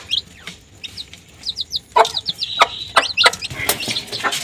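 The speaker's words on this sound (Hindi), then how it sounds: "किस तरीके से मुर्गी जो है ना अपने चूज़ों को खिला रही है खाना" A hen clucks while feeding bread to her chicks in a backyard bird setup, giving repeated short close clucks, with high thin chick peeps and chirps scattered throughout and a few louder knocks.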